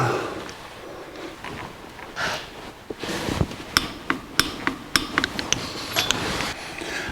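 Engine bolts on a 1964 Chevrolet C10 small-block V8 are tightened to 45 foot-pounds with a torque wrench, producing a run of sharp, close metallic clicks and knocks that quicken toward the end.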